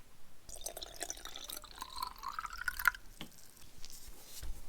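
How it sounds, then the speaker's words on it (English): Rust remover liquid dribbling and trickling into a seam in a car's front floor pan, a faint wet dripping with small splashy trickles, fairly quiet and close, with no talk. "I'm going to try to fill it up with rust remover, the liquid, and see if that will work"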